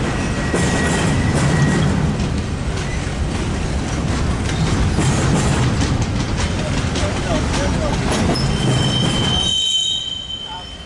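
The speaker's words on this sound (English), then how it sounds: "So, waiting for train 4 to pass." Short train with two engines passing on a railway near Commerce: a loud, continuous rumble of rolling wheels with sharp squeals and clatter, staying close throughout, then fading in the last second.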